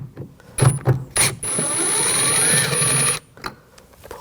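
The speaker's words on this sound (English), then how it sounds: "Now we're going to take these screws out, use a T20 socket" A ratchet with a T20 socket backs out door handle screws on a 2000-2006 BMW X5 rear door, giving a few quick clicking bursts and then a longer steady whirring rasp, close up, with no talking.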